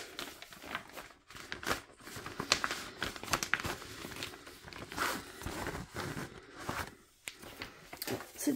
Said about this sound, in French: Et on va déballer ça tout de suite.